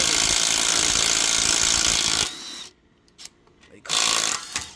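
Power tool loosening tight lug nuts on a Ford Edge wheel: a loud, continuous ratcheting buzz for about two seconds, then a drop to near silence with a few faint clanks, followed by another loud burst near the end.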